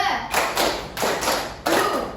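Fifth-grade pupils in a classroom perform the 'tepuk semangat 2' clapping chant: three strong group bursts of rapid, overlapping hand claps, evenly spaced and near, with a brief voice at the start.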